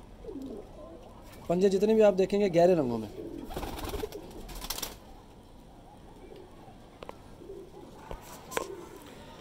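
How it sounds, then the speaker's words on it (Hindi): Teddy breed pigeons in a breeder's loft give a close, throaty burst of rolling coos lasting about two seconds, with a few scattered rustles and taps after, under someone speaking nearby. "नज़र आता है कि कबूतर है ये।"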